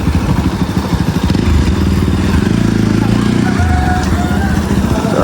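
A motorcycle runs downhill on a hillside road toward a mountaintop temple, its loud, close engine rumbling steadily with some rattle and wind buffeting.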